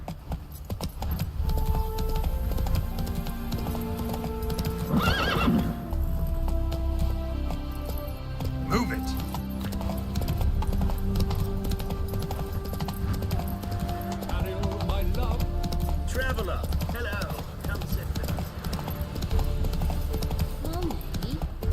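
In The Witcher 3: Wild Hunt, the horse Roach gallops with a steady rhythmic clip-clop of hooves under music and game sound effects, and a voice speaks over part of it.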